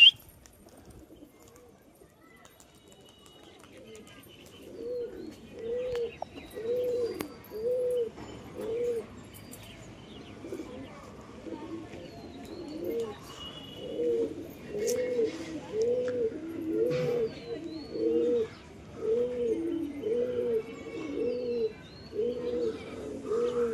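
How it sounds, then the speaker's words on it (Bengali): Pigeons coo steadily in a rhythmic, overlapping chorus from about five seconds on, close and fairly loud, with occasional chirps and faint wingbeats as birds are let go to fly. "প্রথমে এই 4টে কবুতর ফ্লাই দিই"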